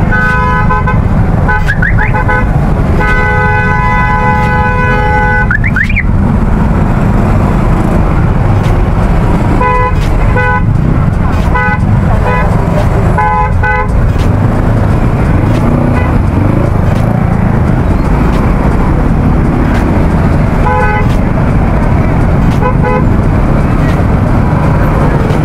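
Car horns honk repeatedly in a traffic jam, a long steady blast early on followed by many short toots, all over a constant loud rumble of engines and traffic.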